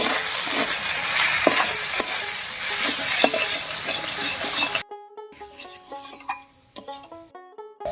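Ground spices, including cumin, coriander and turmeric powder, fry in oil and are stirred and scraped around a pan with a dry, gritty rubbing sizzle for about five seconds before the sound cuts to quiet background music.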